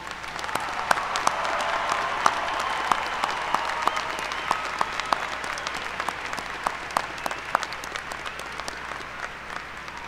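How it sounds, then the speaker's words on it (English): A commencement audience at the University of Tennessee at Martin claps for its graduates in sustained, dense applause. Individual sharp claps stand out, and the applause continues evenly throughout before tapering slightly. "One more huge round of applause for our graduates"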